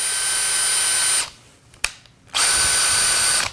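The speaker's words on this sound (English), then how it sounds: "this slower setting could drill through much harder wood because it's stronger" A power drill spinning on its slower, stronger gear setting, whirring steadily, stopping for about a second with a faint click, then starting up again, close and loud.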